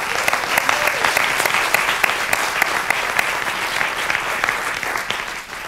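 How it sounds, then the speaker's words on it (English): A round of applause for Kim Huey, IGF USA Executive Coordinator, at the 2011 Internet Governance Forum-USA closing: a full hall claps loudly and continuously for nearly six seconds, the sound easing slightly at the end. "We definitely owe her a round of applause."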